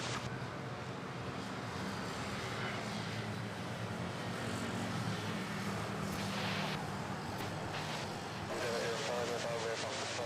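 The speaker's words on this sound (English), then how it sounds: "we have a Philippine Airlines A330 on final, arriving from Taipei, Taiwan" A Philippine Airlines Airbus A330 arriving from Taipei roars steadily on final approach at Manila Airport. The jet noise is broad and continuous, with faint background ambience and no talk in the clip.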